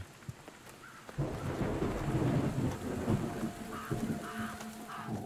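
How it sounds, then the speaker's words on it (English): A thunderstorm in the horror game Reveil: after a quiet start, steady heavy rain and a low rumble of thunder build up and hold loud, with faint scattered higher tones over the downpour. "Looks like the storm hit us pretty bad."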